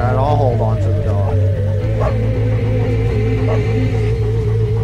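A cartoon dog barks and yips in LittleBigPlanet, with a few close, wavering woofs over steady, looping game music that keeps playing underneath.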